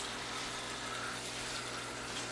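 Air and water hiss and gush steadily out of an open purge valve on a hydronic heating boiler, a continuous close rushing flow with no talking.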